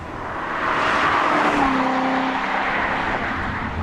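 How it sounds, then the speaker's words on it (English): A 2014 Chevrolet Corvette Stingray Z51 with its V8 pushrod engine roars loudly and steadily, its pitch climbing as the car accelerates for about four seconds, with no talking. "This is the ultimate pushrod engine."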